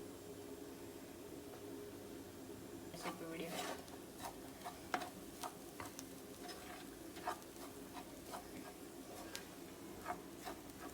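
Salt and chilli stir-fry in a pan for momos, with a quiet steady sizzle under scattered clinks and scrapes of a spoon against the pan at irregular intervals.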